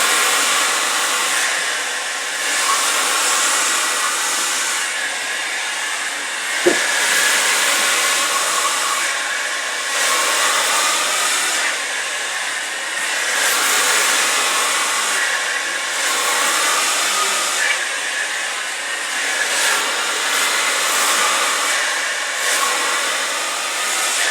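A hair dryer blows hair dry with a steady, loud whooshing drone close by, its pitch and level shifting slightly as it moves, with a single sharp click partway through.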